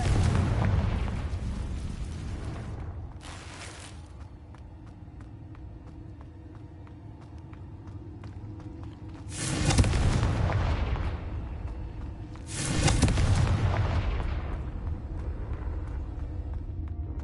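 Confringo spell blasts in the video game Hogwarts Legacy, heavy booming explosions: one at the start that rumbles away, then two more a few seconds apart, each with a long rolling tail.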